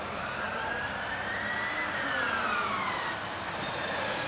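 A Formula Student electric race car, number 141 from Vienna, drives an endurance run on a circuit: a high whining motor tone rises and then falls as it passes, over steady broadband track and crowd ambience.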